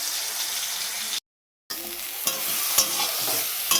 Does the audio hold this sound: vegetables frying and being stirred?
yes